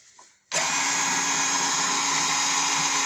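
A homemade drill press powered from a bench power supply kicks on abruptly after a brief quiet moment, then runs with a steady, loud motor whine that holds constant to the end.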